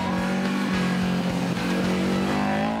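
A 2-litre twin-carb 2002 Ti classic rally car, rebuilt after a crash, revs hard and close during a Tasmanian tarmac rally, its engine note rising and falling through gear changes for about three seconds with no talk.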